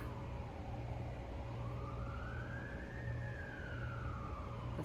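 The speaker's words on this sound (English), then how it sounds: "We got the sirens." A wailing emergency siren plays steadily from a phone, its pitch sweeping slowly up and then down over a constant droning backdrop, with no talking.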